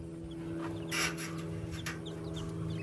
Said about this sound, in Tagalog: may bago tayong mga sisiw